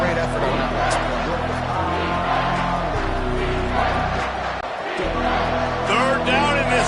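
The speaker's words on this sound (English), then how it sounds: "this crowd is tearing the lid off this place" A packed stadium crowd at a college football game between Alabama and Oklahoma roaring steadily and loudly on third down, with announcers talking over the constant din.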